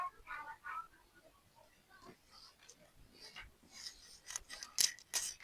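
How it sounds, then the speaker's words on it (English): Scissors cut through blouse lining fabric in a few short, sharp snips and rasps, close and fairly faint, grouped toward the end of the clip. "So I'm going to cut lining too, exactly like this."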